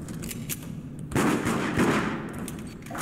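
Gunfire in the multiplayer horror game Deceit, a burst of shots breaking in partway through and carrying on as a dense, loud rattle before easing off, with no talking over it.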